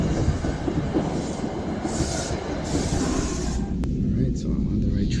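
Steady rumbling train noise on the rails, a dense low roar with faint hiss above, continuous throughout with a brief sharp click near the end.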